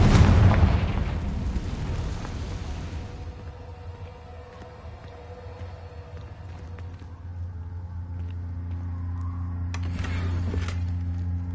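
A Confringo blasting spell exploding in the video game Hogwarts Legacy: a loud, deep boom that rumbles and slowly fades over several seconds into a low hum, with a few faint crackles and a later swell.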